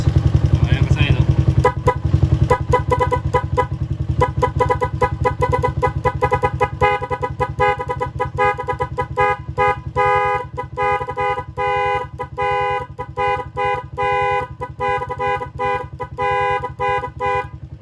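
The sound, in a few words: Jialing TMX125 Motorstar 125 motorcycle horn and engine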